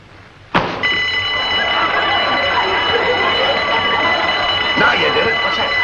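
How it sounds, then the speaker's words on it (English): A burglar alarm in an old television comedy set bursts on suddenly and keeps ringing, loud and steady, a continuous electric bell tone that fills the room without pause. "That was a burglar alarm."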